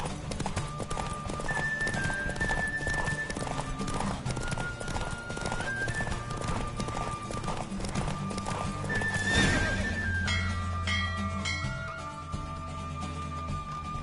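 A horse gallops in a race in The Witcher 3, its hooves clip-clopping in a fast, steady rhythm, with a whinny and soft tonal ambience in the background.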